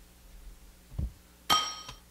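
Glass clinks and shatters in the physics game Happy Wheels: a dull knock followed by a bright, sharp breaking chime that rings briefly and fades, with no talk.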